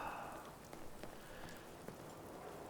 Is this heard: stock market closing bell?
no